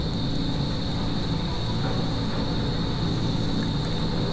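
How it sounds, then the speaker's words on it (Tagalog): A large cargo ship passing beneath the Davao to Samal Island bridge construction site, heard as a steady, loud low engine drone and rumble with broadband wash, continuous and close throughout with no talk. "Biglang dumaan yung cargo ship"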